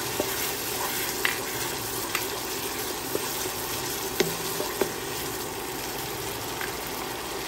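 Garlic sizzles steadily in a hot pan while stir-frying ground beef and water spinach, a constant crackling hiss with a few sharp clicks and scrapes scattered over it, close and even throughout.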